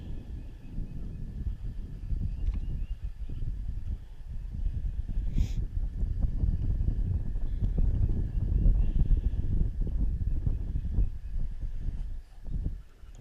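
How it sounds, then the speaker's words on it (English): Wind blows steadily outdoors by a lake, a low, continuous rumbling buffet that swells and eases across the clip, alone with no speech. "The wind's kind of blowing that way"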